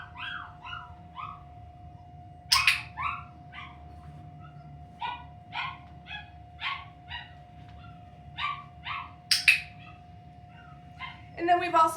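A young puppy yips, whimpers and barks in short bursts through the session, several sharp barks standing out, while a person talks nearby over a steady tonal hum.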